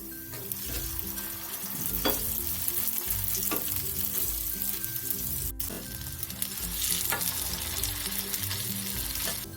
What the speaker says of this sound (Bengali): খুব আলতো করে উল্টে পাল্টে আমি ভালো করে ভেজে নিলাম